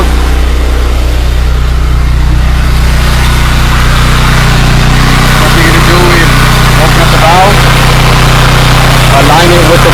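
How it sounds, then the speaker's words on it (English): A small gas engine on a carpet and upholstery cleaning machine runs loud and steady nearby, its low drone constant throughout with slight fluctuations. "Go ahead and start the engine."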